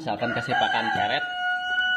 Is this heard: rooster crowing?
yes